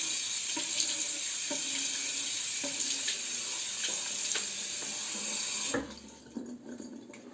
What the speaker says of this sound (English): let's wash my face